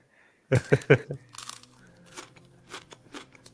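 Crunchy chewing from an AI-generated clip: several loud, close bites in quick succession, then softer crackling chews and crinkles trailing off, with no talking.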